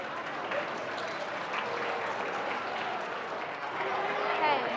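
Applause from the audience at a regional school science competition awards ceremony, a steady, moderately distant round of clapping lasting about five seconds with crowd murmur mixed in.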